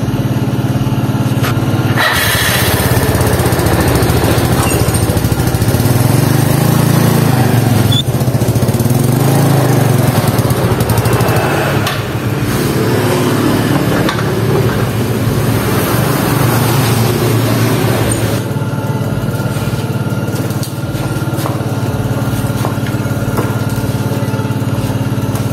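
A Yamaha Mio Smile scooter engine runs steadily on a test drive after CVT work, a loud, continuous buzzing drone that rises and falls slightly and stops abruptly near the end, with no talk over it.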